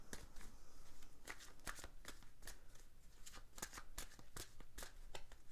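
Tarot cards being shuffled for a reading, a soft, close riffling with quick papery flicks repeating in an uneven rhythm, faint and alone.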